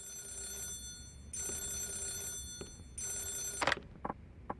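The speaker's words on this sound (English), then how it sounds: "Is that the phone?" A telephone rings in the video game Yakuza 0, with two clear ringing bursts separated by a pause, set against low background hum and followed by a few soft clicks.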